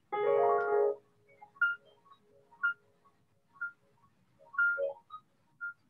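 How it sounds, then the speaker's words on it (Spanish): Quiet piano arpeggio spanning a full chord split between both hands: a blurred cluster of notes at the start, then scattered single notes ringing out one after another. "Que es un arpegio completo de todo el acorde, aunque esté separado en las dos manos."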